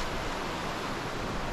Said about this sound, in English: It's a beautiful river.